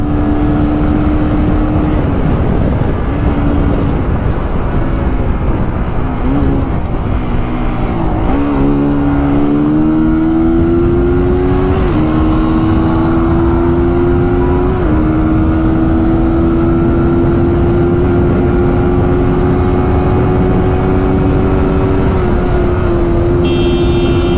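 A Suzuki GSX-R motorcycle ridden hard at high speed, its engine howling loud and close with a steady whine that climbs through gear changes, mixed with heavy wind rush.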